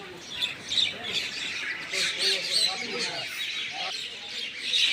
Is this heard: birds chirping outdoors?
yes